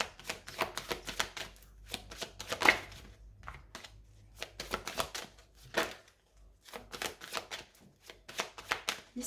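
A deck of cards is cut and shuffled for a reading, producing bursts of quick riffling and slapping card sounds with short gaps between them, close and fairly quiet, with no talking.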